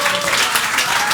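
Audience applause at a live rugby show, a short burst of dense clapping, loud and close, with a faint voice underneath.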